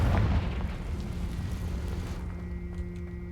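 A Confringo fire spell explodes in the Hogwarts Legacy video game, a loud, booming blast that rolls off into a rumbling tail with no voices over it.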